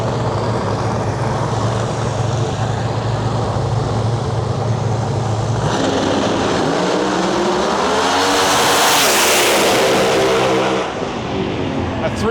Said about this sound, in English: Another pair of screw blowers coming our way right now.